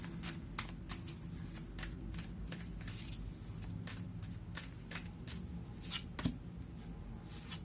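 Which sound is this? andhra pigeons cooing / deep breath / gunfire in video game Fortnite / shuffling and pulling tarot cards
shuffling and pulling tarot cards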